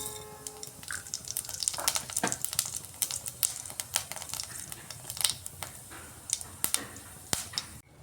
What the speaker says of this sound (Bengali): পাঁচ ফোড়নটা ভাজা ভাজা হয়ে আসছে